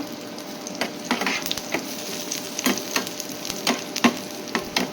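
Crushed garlic frying in hot oil with cumin, crackling and sizzling steadily with repeated scraping taps of a spoon stirring the pan, loud and close with no talk.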